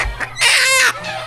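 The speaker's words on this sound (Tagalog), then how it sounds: "Manok!" A single loud, drawn-out squawk, like a chicken clucking sharply, sounds up close and then fades within about a second.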